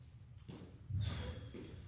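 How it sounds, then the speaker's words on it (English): Heavy, exaggerated breaths, a sharp inhale followed by a long forceful exhale, close and alone. "I'll do some exaggerated breathing"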